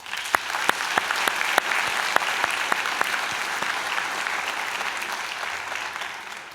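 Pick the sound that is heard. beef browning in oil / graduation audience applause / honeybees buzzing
graduation audience applause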